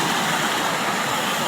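A swollen stream, running bigger than usual, rushes past close by in a steady, dense roar of churning water with no breaks and no voices.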